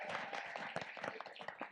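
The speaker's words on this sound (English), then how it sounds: "Round of applause" Soft applause from an audience at a fintech competition, a quiet patter of claps through the stretch, ending with one louder close thump.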